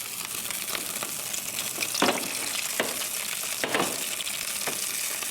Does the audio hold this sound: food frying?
yes